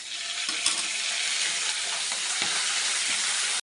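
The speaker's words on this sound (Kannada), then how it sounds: "ಈಗ ನಾನು ಬೆಳ್ಳುಳ್ಳಿ ಹಾಕ್ತಾಯಿದ್ದೀನಿ. ಇದೆಲ್ಲ ಒಂದು ಸ್ವಲ್ಪ ಫ್ರೈ ಆಗಬೇಕು." Garlic frying in a pan, a steady bright sizzle with a few soft clinks of stirring, close and continuous until it cuts off.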